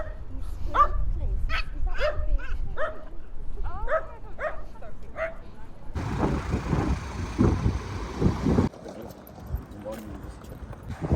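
A dog in a park in the UK makes several short, close yips and barks in the first half, followed by louder mixed outdoor noise, with people nearby.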